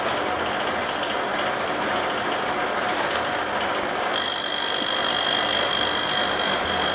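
A 3/4 PK split air conditioner with a newly replaced capillary tube is switched on: a steady broadband mechanical hum and hiss, with a brief click and then a brighter high-pitched whine joining as the unit starts running.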